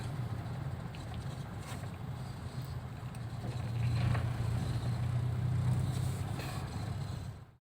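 A 2013 Toyota Innova petrol car cruises at slow speed around 30 km/h in third gear, its engine giving a steady, smooth low hum from inside the cabin that swells slightly midway.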